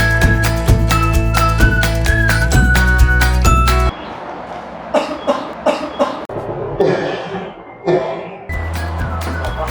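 Coughing from a man in a short public health clip on cough etiquette, heard as several separate, fairly close coughs after loud music ends, with some background noise between them.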